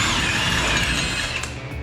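A ratchet wrench spins off the lower ball joint nut on a 2001–2010 Chevy/GMC 2500 Duramax truck, giving a loud, steady, close mechanical whir that eases slightly near the end.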